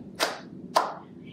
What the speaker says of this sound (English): My hands say thank you with a clap, clap, clap